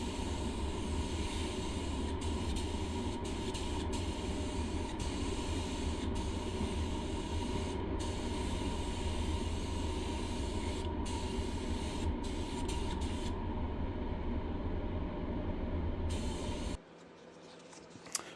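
A spray gun lays candy paint and clear coat on motorcycle panels with a steady, close airy hiss that runs almost unbroken and then cuts off near the end.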